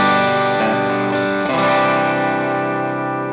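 Loud, gritty overdriven electric guitar chords through a Tube Screamer pedal with the gain turned up ring out and sustain, with a couple of chord changes early on, no talking.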